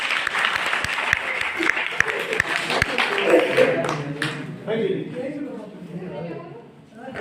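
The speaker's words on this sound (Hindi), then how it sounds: "एक बार तालियां बजा" Children applauding together for their teacher at a New Year celebration, a lively round of clapping that fades out and gives way to an adult speaking.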